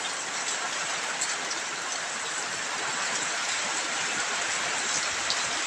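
Heavy morning rain with strong wind pours over a village with coconut palms: a dense, even roar of falling water holds steady throughout, with no voices.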